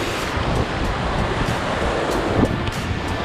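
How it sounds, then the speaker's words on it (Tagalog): Strong, cold river current rushes in a continuous broadband roar near the microphone, mixed with wind buffeting at a riverside stop on a long bike ride in Nueva Ecija and Aurora. "Lakas ng agos, oh."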